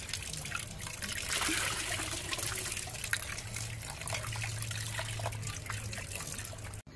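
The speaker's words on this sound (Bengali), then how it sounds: "তো চিকেনটা আমরা শুরুতে ভালো করে ধুয়ে নিচ্ছি।" Raw chicken washed under running water outdoors on a rooftop with a clay stove, a steady close trickle and splash of tap water running continuously without talk until it cuts off abruptly at the end.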